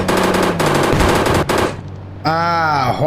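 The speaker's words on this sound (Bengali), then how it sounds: "কোথায় আমার মেশিন গান হ্যাঁ ভাই চলে" Machine gun fire in the mobile game Indian Bikes Driving 3D: rapid, loud bursts of shots in two long strings with a short gap, followed by a ringing whine.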